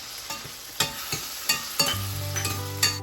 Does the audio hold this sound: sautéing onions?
yes